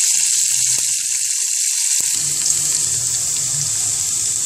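Onions dropped into about one and a half spoons of hot oil and frying, with a steady loud sizzle and hiss throughout and occasional light knocks from stirring.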